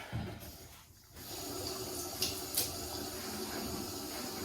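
Water runs steadily from a bathroom sink tap while a face is wetted, making a continuous hissing splash with brief dips and small droplet spatters, close and moderately quiet.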